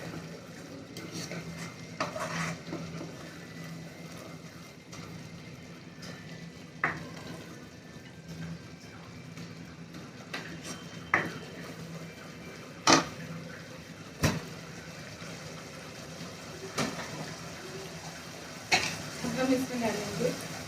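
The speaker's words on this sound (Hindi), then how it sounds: "इसको हम मीडियम फ्लेम पे पकाएंगे और बीच बीच में हिलाते रहेंगे।" Matar makhana curry stirred in a pan over a medium flame, with a steady low sizzle and occasional soft scrapes and clinks of the spoon against the pan, close up and fairly quiet.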